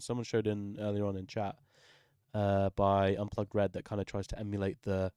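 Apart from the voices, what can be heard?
No everyday noise stands out behind the speech.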